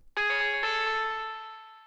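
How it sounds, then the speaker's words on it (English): A bright techno synth stab with a fast dub delay, a sharp attack followed by quick ringing repeats that blur into a sustained, slowly fading metallic tone, moderately loud with nothing else playing. "Fast dubs sounds like this."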